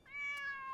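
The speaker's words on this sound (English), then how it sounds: "And there's the kitty." A cat gives a single clear, drawn-out meow, fairly close and alone, rising in and holding steady before tapering slightly.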